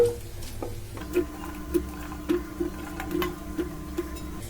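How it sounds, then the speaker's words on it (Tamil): Cauliflower florets are mixed by hand into a thick batter. Soft, rhythmic squelching pats repeat about every half second, quiet and close, over a steady low hum. "காலிஃபிளவரை போட்டுட்டு நம்ம கை வச்சு இதை நல்லா மிக்ஸ் பண்ணிக்கலாம்."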